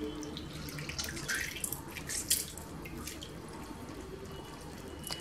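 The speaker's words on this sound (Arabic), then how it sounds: "غادي ناخذ الجيلاتين نعصرو من الماء" Soaked gelatin being squeezed by hand in a kitchen, water trickling and dripping with a few splashy squelches, close and moderately quiet, no talking.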